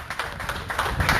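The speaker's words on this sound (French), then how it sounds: "Mesdames, mesdemoiselles, messieurs, je vous demande d'applaudir M." Audience applause at the first congress of firefighters in Martinique, a short burst of dense clapping from a seated crowd, steady and fairly close.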